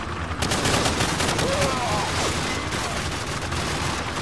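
An MP5 submachine gun fires in Call of Duty 4 in rapid, sustained automatic bursts, loud and close, with a voice talking faintly underneath.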